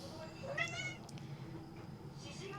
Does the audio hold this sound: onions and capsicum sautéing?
no